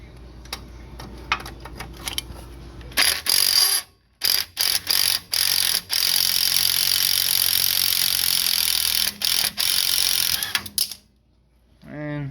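A ratchet tightens a bolt on a turbocharged LS-swapped S10 truck, sounding as loud, close bursts of rapid clicking separated by short pauses, with no talking.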